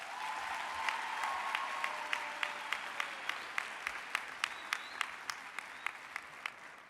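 Audience applause at a graduation ceremony, a steady wash of clapping from a large crowd in a hall, with distinct louder claps standing out at a regular beat, heard at a moderate distance with no talk.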